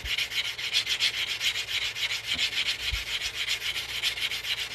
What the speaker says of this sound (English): what I'm doing here is I'm smoothing out this cut edge because we're about to start stretching this ring